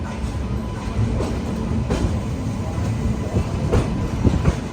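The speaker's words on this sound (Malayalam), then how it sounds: "ശ്രീമാതാ വൈഷ്ണോ ദേവി കട്ര സ്റ്റേഷനിലേക്ക് ഇതാ ട്രെയിൻ എത്തിക്കൊണ്ടിരിക്കുകയാണ്." The Uttar Sampark Kranti Express pulls into Shri Mata Vaishno Devi Katra station, a loud, continuous rumble of rolling carriages with rhythmic wheel clacks passing close by.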